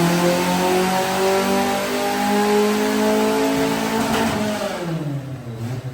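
A Suzuki Khyber fitted with a Honda B18C engine revs hard on a dyno run, a loud, close, steadily climbing engine note that holds high and then drops off near the end.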